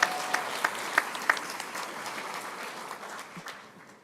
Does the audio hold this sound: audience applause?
yes